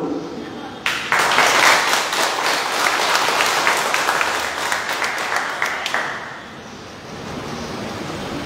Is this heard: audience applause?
yes